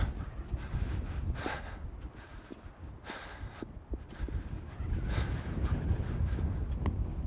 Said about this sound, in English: I'm by the water and it's windy.